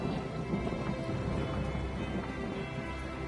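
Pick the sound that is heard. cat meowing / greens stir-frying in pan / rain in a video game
rain in a video game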